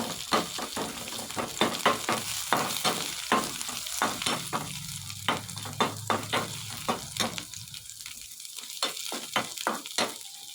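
Ginger, garlic, green chilli and onion fry in a small amount of hot oil in a pan, a steady close sizzle broken by repeated scraping and stirring strokes of a spoon, with no talk.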